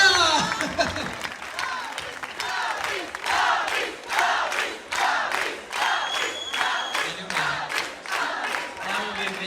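An audience in a convention hall claps after a Moulin Rouge cosplay show, loud and near, in steady rhythmic unison beats with crowd cheering mixed in.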